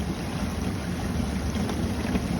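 A Samsung dishwasher runs and fills with water, giving a steady, even rushing hiss with no talk over it.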